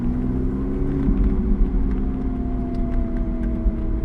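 A car accelerating on a race track, engine droning and rising steadily in pitch with a loud, close, continuous rumble and whir, no voices heard.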